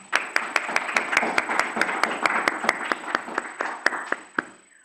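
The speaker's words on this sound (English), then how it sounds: "if we can give a round of applause" Small group applauding at a meeting, a steady burst of claps with one sharp, close, regular clapper cutting above a softer crowd wash, lasting several seconds before fading.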